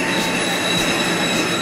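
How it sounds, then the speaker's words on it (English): An Expo Line light rail train rounds a street curve with a continuous, loud, high metallic wheel squeal over rumbling rail noise, close by and steady, with no voices. "At this point, like I said, the train will go a little bit slower."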